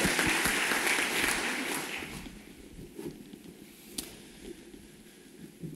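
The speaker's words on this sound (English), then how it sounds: "another round of applause." A room full of people at a conference opening plenary session applauds, clapping loudly at first and then fading to scattered claps.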